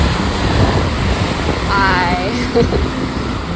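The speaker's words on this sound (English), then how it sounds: "that's cold and the wind's up in case you can't hear it" Wind blows on a cold Tasmanian coast, a steady rushing roar against the microphone with surf mixed in, while a person speaks over it.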